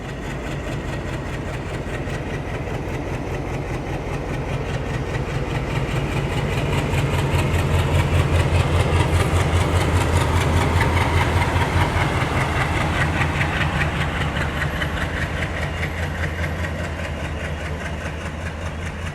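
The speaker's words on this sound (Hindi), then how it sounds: "ट्रेन का अराइवल होते ही यहाँ पे डिपार्चर मिल रहा है ये एल्को वाली डिपार्टमेंटल गाड़ी को।" An ALCO diesel locomotive hauling a railway departmental train idles with a heavy, steady low throb that swells gradually as it begins to depart. The engine is loud and close and plays continuously with no speech.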